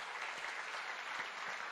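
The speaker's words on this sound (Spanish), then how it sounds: "¿Puedo dar un aplauso a eso, hermano?" A congregation breaks into applause during a Spanish-language sermon about Jesus in Gethsemane, a thick, steady wash of many hands clapping together from start to finish, with no talking on top.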